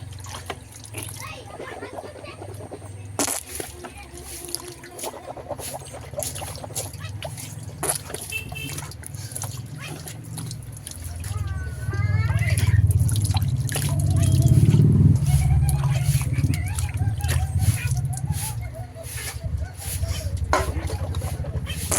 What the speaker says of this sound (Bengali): দেখো মুখ ধুচ্ছি